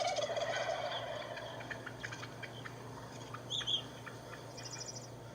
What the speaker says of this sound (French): Les mâles glougloutent en réponse au cri de la dinde